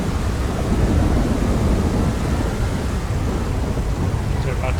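Heavy rumbling thunder with steady rain in a GTA FiveM street race, a loud continuous roar filling the whole stretch, with faint voice traces beneath.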